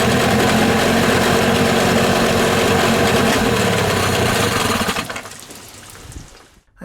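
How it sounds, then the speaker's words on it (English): A Mariner 25HP two-stroke outboard engine runs loud and close with a buzzing, rattling drone and water splashing, then falters and dies away near the end as the carburetor runs dry. "I let it run until the carburetor was almost empty"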